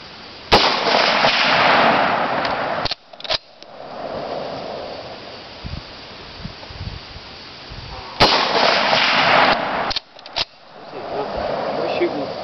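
Shots from an L1A1 rifle aimed at the base of a tree outdoors, with two loud reports several seconds apart, each followed by a long rolling echo, and faint low-level sound between them.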